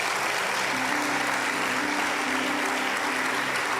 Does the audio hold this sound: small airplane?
no